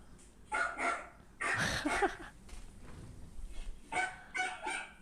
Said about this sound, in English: I put a video of him barking.